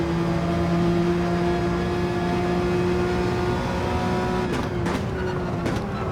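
A Porsche 911 RSR race car in Gran Turismo 7 launching from the start, its steady engine drone holding a sustained tone before brief shifts and revs near the end, with no talk.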